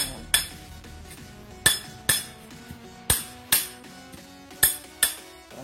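A hammer repeatedly drives a ground rod into hard, rocky soil, giving sharp metallic clanks at uneven intervals of roughly half a second to a second, each ringing briefly before the next blow, with no talking.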